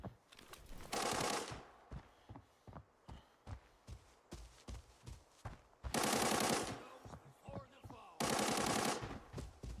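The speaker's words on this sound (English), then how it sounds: "What looks to be a gunfight between a potential TAC Ops team and bots" Bursts of automatic gunfire from a gunfight between a TAC Ops team and bots in the shooter game Arena Breakout: three loud sustained volleys, with scattered single shots and footsteps in between.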